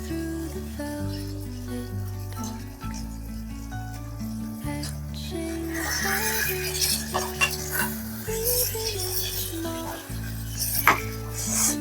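Spoon stirring and scraping a Kerala-style sardine (mathi) fish curry in a pan, with soft clinks from the cookware and a steady background of music, no voices.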